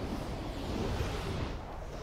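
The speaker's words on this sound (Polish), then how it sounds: "Nie, tu jest już wodospad." A waterfall in the video game Black Myth: Wukong gives a steady, soft, broadband rushing roar with no breaks over the two seconds.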